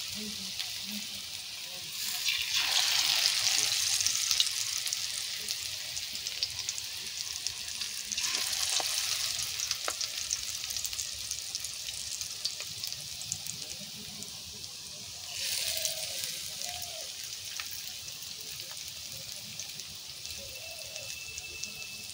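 Leaf chops made with Malabar spinach, onion and chilli fry in oil with a steady crackling sizzle, swelling into louder bursts several times.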